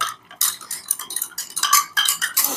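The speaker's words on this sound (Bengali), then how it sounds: "ধনে গুঁড়োটা ভালো করে নেড়ে দিচ্ছি" A spoon stirs coriander powder into water, scraping and clinking against a container in a rapid, steady run of close, bright metallic taps and scrapes.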